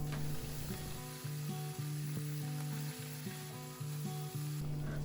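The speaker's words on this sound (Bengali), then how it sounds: "আরেক চুলাতে বসিয়ে দিয়েছি মাছ ভাজা" Smelt fish fry in a pan on a home stove, a soft steady sizzle running beneath a loud repeating hum from nearby appliances or a fan.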